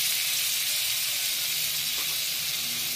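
Butter sizzles steadily in a hot kadhai, a constant bright frying hiss with no speech over it.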